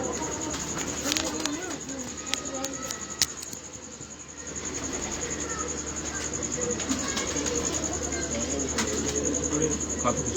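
A pigeon cooing in repeated soft, throaty calls amid light background chatter, with a steady high electronic whine and occasional clicks throughout.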